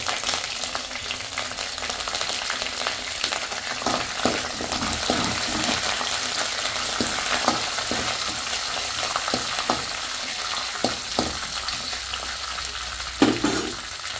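Dried red chillies and curry leaves frying in oil for a tempering, a loud steady crackling sizzle up close with scattered pops and stirring sounds, ending with a brief clatter.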